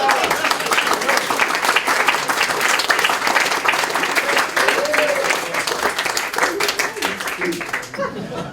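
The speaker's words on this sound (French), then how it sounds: "je vous demande de m'applaudir" An audience at an evening celebration claps in sustained, dense applause that stays loud and even for several seconds before tapering slightly at the end, with voices faintly mixed in.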